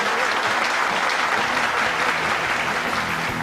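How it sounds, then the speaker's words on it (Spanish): Steady audience applause on a Spanish-language TV program, dense and continuous at an even level from start to finish, with no voices standing out above the clapping. "Fuerte el aplauso."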